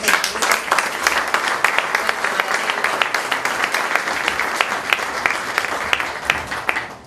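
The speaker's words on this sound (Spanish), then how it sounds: "les solicito un aplauso nuevamente" Sustained audience applause at an honoris causa doctorate ceremony, many hands clapping in a dense, even wash that holds steady and fades slightly at the end.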